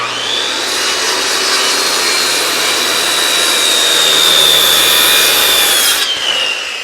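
Power saw cutting through a 2-inch wooden post along the outside of a scribe mark during timber framing work, a loud continuous whine held steady for about six seconds before spinning down.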